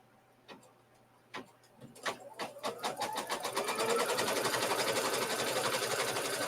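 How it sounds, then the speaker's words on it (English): A sewing machine stitches down a quilt string block: a few slow single stitches first, then the needle speeds into a steady, rapid, close-up clatter that runs to the end. "Place it back into my machine. And I'm just going to stitch this down."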